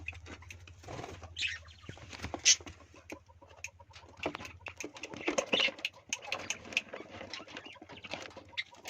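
Quail move about in an enclosure at close range, with soft scuffling, light pattering steps and brief wing flutters over a faint low hum.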